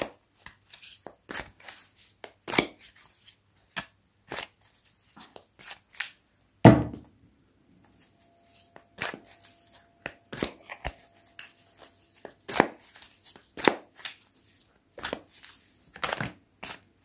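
Tarot cards are shuffled and handled close by, giving scattered soft flicks and riffles in irregular bursts with quiet gaps and one sharper thump partway through.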